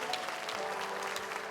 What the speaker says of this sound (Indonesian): boleh kita berikan tepuk tangan sekali lagi untuk Hengke.